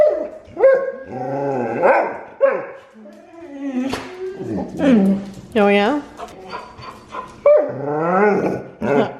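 Dogs bark, growl and whimper close by in a string of sharp, uneven outbursts, with a person briefly speaking among them.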